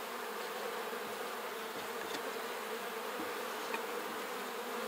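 Honey bees buzz steadily around hive frames as a new hive is set up, a dense, even drone of many wings close by with no talk.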